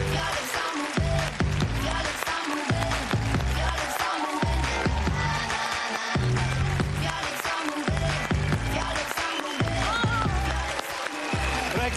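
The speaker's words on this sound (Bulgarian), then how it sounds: "Дами и господа, силни аплодисменти за Катрин Вачева!" A studio audience on the Bulgarian reality show VIP Brother welcomes a contestant with continuous loud clapping, mixed with music beats and cheering throughout twelve seconds.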